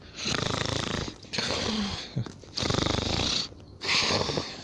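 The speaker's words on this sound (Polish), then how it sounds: "Słyszę chrapanie." Heavy, rattling snores come in long, regular breaths, loud and close, separated by short quiet pauses.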